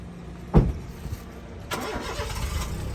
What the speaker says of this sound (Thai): สตาร์ททีเดียวติดนะครับ เครื่องนิ่งเครื่องนะครับ เป็นเครื่อง VTEC นะครับ